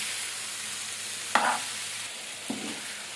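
Soya chunks kebab frying in a pan, a steady soft sizzle under two brief sharper stirring scrapes, close and continuous.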